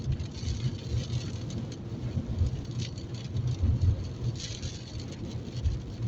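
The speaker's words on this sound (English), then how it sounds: "that rain's coming on" Steady rain drums on a car during a daytime drive in a sudden downpour, a dense continuous patter over the low rumble of the moving car, with no talk.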